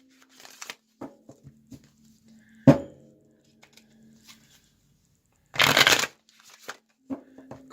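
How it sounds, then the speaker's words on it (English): Oracle cards are shuffled in quick bursts of riffling and flicking, with one loud snap and a longer rustling shuffle among scattered small clicks. "Go and shuffle it up real good."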